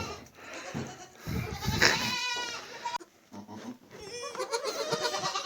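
Several newborn goat kids bleat in high, wavering cries, close by and overlapping, with brief pauses and a little rustling between calls.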